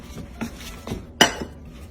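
A pot of reduced glazed salmon sauce is lifted off the stove, giving a few light metallic clinks and scrapes of cookware, one sharper clank near the middle, close and fairly clear with no talking.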